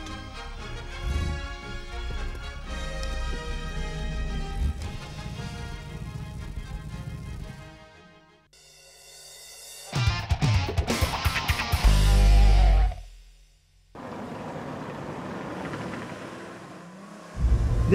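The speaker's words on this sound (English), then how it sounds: "Listen to that gorgeous V8 rumble." A V8 car engine rumbles with a deep, steady throb, then swells into a loud, harsh revving burst before settling back to a lower idle.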